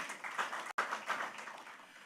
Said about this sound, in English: please give yourselves a round of applause for being here as well